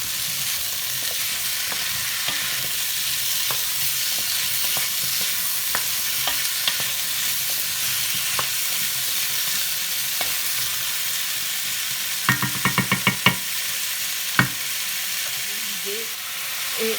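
Lardons, a 250-gram packet of bacon bits, fry and brown in a pan with a steady sizzle throughout, broken by soft stirring scrapes and a short burst of utensil clicks near the end.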